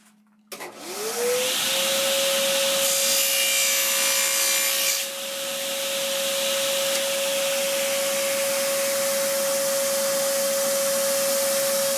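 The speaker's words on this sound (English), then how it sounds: "I'm going to go ahead and cut those miters on the table saw" A table saw cutting miters in wood: the blade spins up sharply to a loud, steady whine, with a harsher rasping burst for a few seconds as the board passes through, then keeps running on its own.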